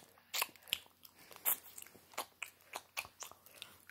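Crunchy bites and chewing of a dollar store candy cane, close and quiet, with a series of sharp cracks and crunches spread irregularly over a few seconds.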